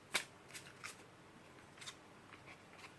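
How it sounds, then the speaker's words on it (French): Oracle cards being shuffled and drawn give close, quiet papery riffles and flicks in short separate bursts. "Alors on me dit de sortir 6 cartes."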